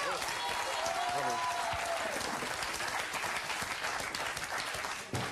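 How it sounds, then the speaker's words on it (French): A studio audience at a French TV quiz show applauds a fakir act, with loud, continuous clapping and a voice speaking over it. "On peut applaudir encore une fois Fakir Bouboun, s'il vous plaît."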